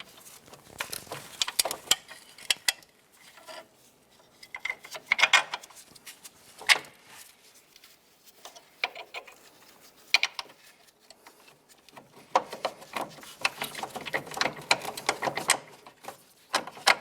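Strut bolts worked into the steering knuckle of a 2011-2019 Ford Fiesta, uneven metallic scraping, ticking and clanking in scattered bursts, close and moderately loud, with a denser rattling stretch toward the end.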